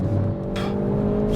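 Hyundai i30N hot hatch lapping the Nürburgring, its engine a loud, steady, close drone with a brief whooshing surge of road and wind noise partway through.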